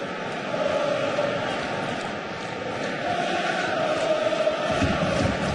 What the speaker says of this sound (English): Crowd is willing them on now, as they have all game long.